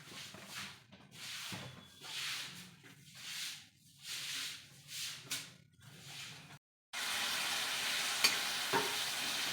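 Spices for mutter paneer frying in a pan, rhythmic scraping stirs rising and falling for several seconds, then a brief silence before a louder, continuous hissing sizzle takes over.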